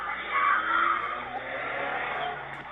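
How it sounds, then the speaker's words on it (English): A small white hatchback getaway car drives off at night along a city avenue, its engine revving with tyre noise, loud and close at first and then holding steady for a few seconds. "Witnesses say that the getaway car was a small white hatchback."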